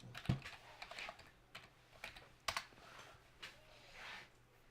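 Typing on a computer keyboard, faint irregular clicks and key taps in uneven bursts, with a couple of sharper louder strokes, heard alone without talk.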